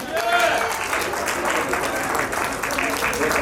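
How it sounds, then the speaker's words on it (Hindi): Audience applause at a 25th wedding anniversary celebration fills the moment as a couple is called to the stage, a steady dense clapping from the crowd with voices mixed in. "एक बार जोरदार तालियों से।"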